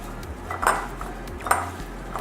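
Sweet potato being mixed with pepper and salt in a bowl, with two distinct clinks of a utensil against the dish a moment apart over a low background hum.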